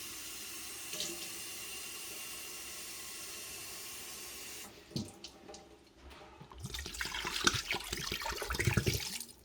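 Tap water runs into a container to cover turkeys being brined, a steady faint flow that breaks off and then returns as a louder, splashier gush, with no talk.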